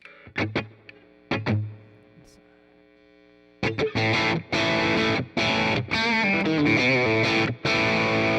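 Distorted electric guitar through a high-gain pedal into a Twin Reverb amp, with a harsh, brittle tone peaking around 6 kHz: a few short stabs, a pause with faint hum, then loud sustained strummed chords.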